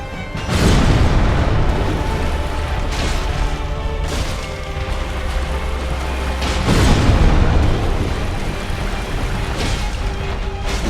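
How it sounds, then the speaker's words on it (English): In Dark Souls Remastered, the Stray Demon's weapon sets off explosions. Several loud, deep booms crash in one after another, each with a rumbling tail, over a continuous heavy roar and with no talk. "he swings his weapon to the side and it makes the explosion"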